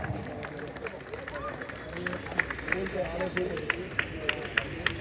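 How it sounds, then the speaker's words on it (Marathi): An audience at a 60kg-class bodybuilding competition claps rhythmically amid crowd murmur, with someone speaking over the applause. "टाळ्यांचा आवाज."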